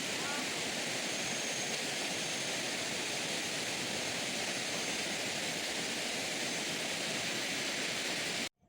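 A waterfall roars in a steady, dense wash of noise that fills the whole stretch without a break, then cuts off abruptly at the end.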